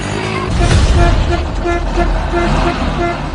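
A loud truck horn blares in repeated tones over heavy engine rumble and outdoor noise near millet fields, with voices mixed in, used to drive off locusts.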